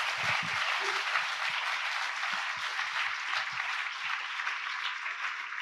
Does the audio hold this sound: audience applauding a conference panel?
yes